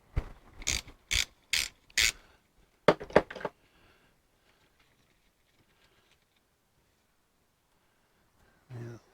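A ratchet wrench working on the speedometer drive of a 1955 Triumph TR2 overdrive unit, several quick close clicking bursts in a row, then near silence and a final short knock.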